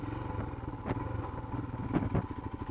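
A Royal Enfield Himalayan motorcycle rolls slowly over rocky dirt on an off-road track, its engine a steady low rumble with occasional clattering bumps throughout.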